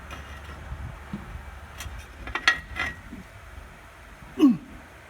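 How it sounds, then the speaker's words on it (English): A homemade 1 7/8-inch wrench works an Eagle bus torsilastic spring, giving scattered metallic clicks and creaks, with a louder clunk near the end. "Here's my wrench I made, 1 7/8. Let's see how these do."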